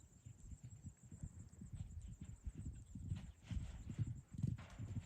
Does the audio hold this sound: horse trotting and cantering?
yes